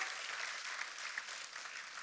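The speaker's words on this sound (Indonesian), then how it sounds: "tepuk tangan yang meriah buat Tuhan kita" A church congregation claps together in a steady, even burst of applause, soft and somewhat distant, without voices over it.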